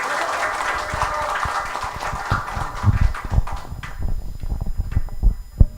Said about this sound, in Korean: 함성과 함께 박수 좀 더 부탁드리겠습니다